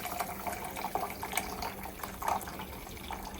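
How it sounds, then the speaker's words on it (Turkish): Hot brewed tea being poured into a container over a glass of sugar: a soft, close trickle of liquid with a few gurgling splashes, faint and continuous. "Ve demlenmiş olan çayımızı da döküyorum ki onun sıcaklığı ile"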